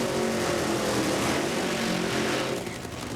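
John Force's NHRA Funny Car at the 2003 Fram Autolite Nationals roars through a burnout. The loud, steady engine roar fills the whole stretch and eases off slightly toward the end.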